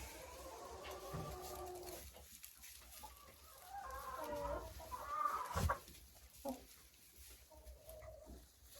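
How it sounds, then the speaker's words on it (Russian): Hens cluck softly while picking through hay, several birds murmuring and calling nearby at low volume, with occasional rustling and a sharper squawk partway through. "И вот так вот я даю своим курочкам обязательно еще и сено."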